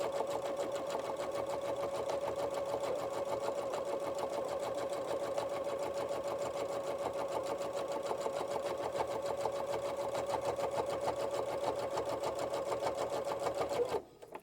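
A sewing machine top stitches a thick composition notebook cover, a long steady run of rapid, even needle clatter over a motor whir, stopping suddenly just before the end.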